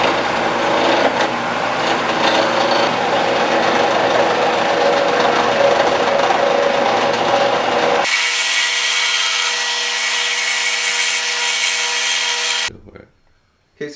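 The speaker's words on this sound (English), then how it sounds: "I need to use this gouge to cut in there, and it'll allow the wood to keep turning while I'm cutting" A gouge cuts into a spinning hardwood blank on a lathe and gives a loud, steady, rough scraping roar. After about eight seconds the tone shifts thinner and brighter, and near the end it cuts out to near silence.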